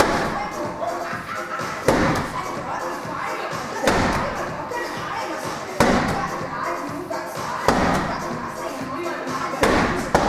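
A slam ball is hurled hard against a gym floor during a workout, giving five heavy thuds at steady two-second intervals, loud and close over background music and a coaching voice.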